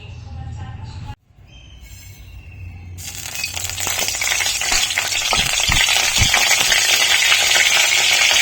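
Carrots, beans and ginger hit hot oil in a kadai, bursting into a loud, steady sizzle with stirring clatter that grows after a brief hush, following a moment of speech.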